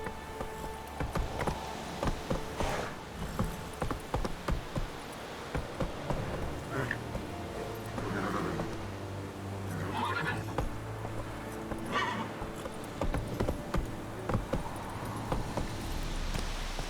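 Roach the horse moves through The Witcher 3 with hooves thudding in a steady rhythm, while snorts and whinnies rise over a low ambient game background.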